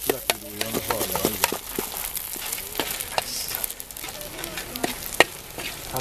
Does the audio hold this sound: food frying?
yes